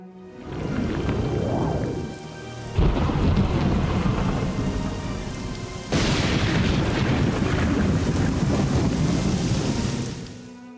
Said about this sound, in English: jumping through a storm with lightning going off while I'm wearing armor